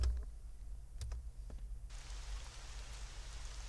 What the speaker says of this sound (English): A rain. And the real one. It falls here and there.